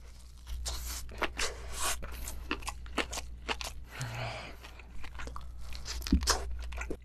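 Close, crunchy chewing and biting of lobster mala with bean sprouts, with repeated crisp crunches and wet mouth sounds in an uneven rhythm and no talking.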